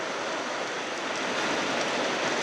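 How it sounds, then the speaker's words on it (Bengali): Steady rain falling outdoors beside a water pipeline, a dense, even hiss that holds for the whole stretch with no voices over it. "ওই দেখো বৃষ্টি হচ্ছে"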